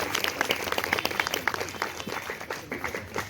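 Wedding guests at a church ceremony clap together in a brief burst of scattered applause that fades slightly toward the end, moderately close.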